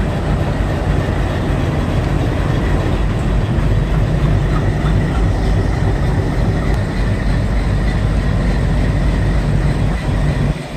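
A train pulls out of Vighanwadi railway station toward Beed, heard as a continuous heavy rumble of engine and rolling wagons that stays loud and steady throughout, with no voices.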